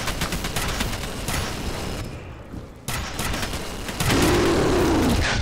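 Rapid gunfire from a weapon in the video game F.E.A.R. Extraction Point, a loud, dense burst of shots that pauses briefly and then resumes over busy game noise.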